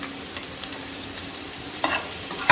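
A small onion fries in two tablespoons of oil, giving a close, steady sizzle with occasional scrapes and stirring taps from a utensil in the pan, and nobody speaks.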